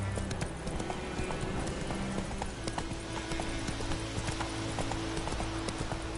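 Geralt's horse Roach gallops in The Witcher 3, rapid rhythmic hoofbeats pounding close and continuous, with a steady game soundscape and low tones running underneath.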